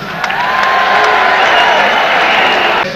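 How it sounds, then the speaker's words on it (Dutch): Audience applause with cheering after a boxing bout, Rudy Koopmans versus Alex Blanchard in Amsterdam, a dense steady wash of clapping and crowd noise holding loud throughout before dropping off at the very end. "geeft u bij de boxers nog één keer een fijn applaus"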